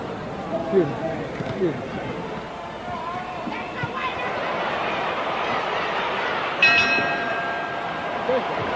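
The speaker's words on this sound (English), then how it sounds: "And the bell sounds, ending round 11" A single boxing round bell rings out over a noisy crowd at a 1971 Ali vs. Ellis fight, ending round 11, with someone commentating throughout.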